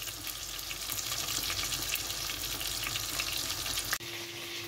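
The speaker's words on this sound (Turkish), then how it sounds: "Evet, biberlerimiz kızardı." Peppers fry in hot oil in a pan, a loud continuous sizzle and crackle close by, with a brief clatter near the end as the frying carries on.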